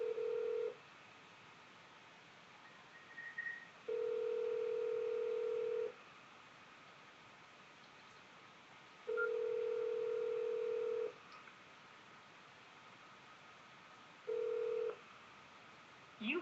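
Phone call ringback from a Sprint line: a steady tone repeating in long on-off cycles, about two seconds on and three off, clear and alone, with a brief dial beep near the start.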